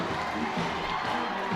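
A minor-league baseball crowd roars steadily after a home run in a Harrisburg Senators versus Reading Fightin Phils game, a dense, continuous wash of cheering and shouting that holds loud throughout.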